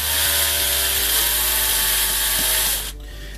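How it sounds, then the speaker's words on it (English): A power drill whines at a high, steady pitch for a few seconds, slowly grinding into a metal spray paint can, then stops abruptly. "I'm going to start drilling slowly."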